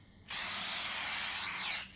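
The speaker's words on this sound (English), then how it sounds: "Spray these rats" One sustained hissing blast from a spray can aimed at rats in The Convenience Store horror game, starting sharply, holding strong for about a second and a half, then stopping.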